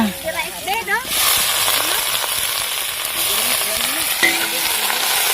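Food frying in a pan while cooking, a steady loud sizzle running throughout, with someone talking briefly at the start.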